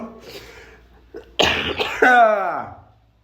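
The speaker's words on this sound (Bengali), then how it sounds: "কাশি হয়ে যাচ্ছে জানো তো" A person coughs a few times in quick bursts at a Bengali home, close and fairly loud, with a strained, throaty edge between brief breaths.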